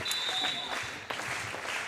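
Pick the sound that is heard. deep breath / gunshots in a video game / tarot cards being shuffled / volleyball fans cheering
volleyball fans cheering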